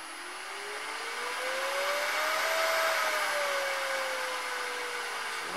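A segmented wood bowl spins on a lathe at about 2500 RPM, a smooth steady whir with a rising then falling motor tone, close and continuous with no talk.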